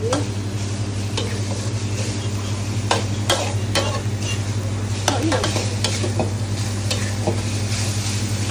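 Pork, sliced onion and Korean kochujang chili paste stir-fry in a pan with a loud, constant sizzle. A utensil taps and scrapes the pan repeatedly up close, and no one speaks.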